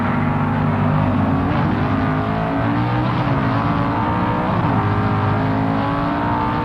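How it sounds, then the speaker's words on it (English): Drag racing cars from 1969, one a Mustang, roar down the strip, a loud, continuous engine drone with steady revving and no pauses. "It's tough to sit and wait while the competition goes flying down the strip."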